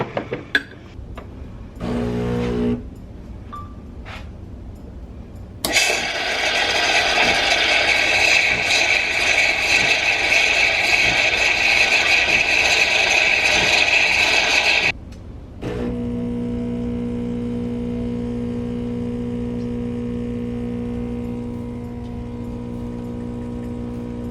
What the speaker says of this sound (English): I am going to hit the latte button twice